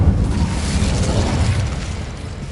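A fiery Incendio spell burst in Hogwarts Legacy erupts as a deep, rumbling boom, loud and close, its low roar sustained and slowly fading over a couple of seconds.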